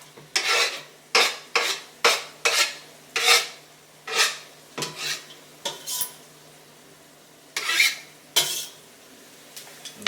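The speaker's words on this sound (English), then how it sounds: "now the onion goes into the Dutch oven." Chopped onion is added to celery cooking in a Dutch oven, followed by a dozen or so sharp metal utensil scrapes and stirring strokes against the pot, evenly spaced and close, with faint sizzling beneath.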